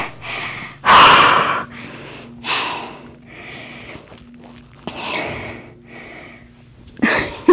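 Heavy panting close to a chest-worn microphone during a yoga session moving into plow pose, with loud irregular breaths, sharp gasps and snort-like exhales separated by short pauses, and a faint low hum underneath.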